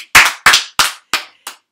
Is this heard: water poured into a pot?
no